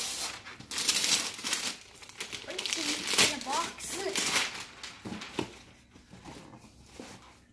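Crinkling and tearing of wrapping paper in bursts as a wrapped present box is ripped open, with a voice and other people talking over the rustling.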